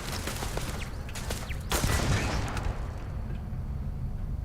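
Turret gunfire in the video game Starfield: a dense fusillade of shots with a louder burst near the middle, set against a steady game soundscape.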